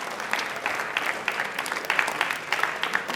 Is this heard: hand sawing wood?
no